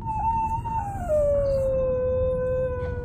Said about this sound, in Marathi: हळूहळू कुत्र्याचे ओरडणे तीव्र होत गेले